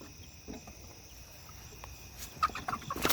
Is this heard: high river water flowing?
no